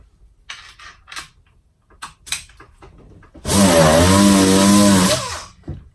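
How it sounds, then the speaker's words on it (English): Dynabrade random orbital sander pressed with excessive force, starting up with a loud whirring drone that wavers and sags in pitch as the pad bogs down, lasting about two seconds before stopping, preceded by light handling knocks. "I'll first demonstrate how not to run an orbital sander exerting excessive pressure on it."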